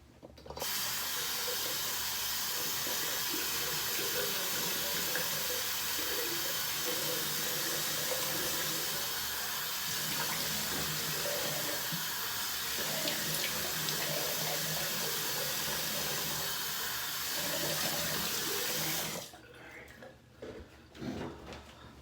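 A bathroom tap runs steadily for about nineteen seconds as someone rinses off after a bar-soap shave, a close, even rush of water that then cuts off, leaving a few faint splashes and handling sounds.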